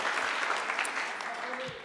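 Clapping from an audience at a senior honors night for a recognized graduate, fairly soft and thinning out, with a voice starting to speak near the end.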